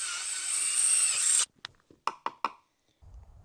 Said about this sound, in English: I got the new holes drilled